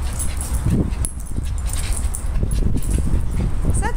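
Several dogs whimper and whine in short bursts close by, with jingling collar tags and a little background noise.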